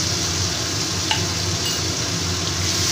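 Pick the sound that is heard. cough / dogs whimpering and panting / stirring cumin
stirring cumin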